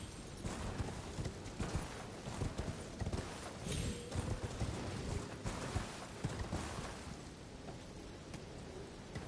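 Hooves of Torrent, the spirit horse in the Elden Ring video game, pound out a rapid, rhythmic galloping clatter that stays loud and near throughout, over rumbling game ambience.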